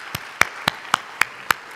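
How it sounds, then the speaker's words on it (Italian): Six sharp, evenly spaced claps ring out at a university event honoring the rector, a slow rhythmic clapping rather than a full crowd ovation, with no talking. "Quindi vi chiedo di fare un grosso applauso alla nostra rettrice"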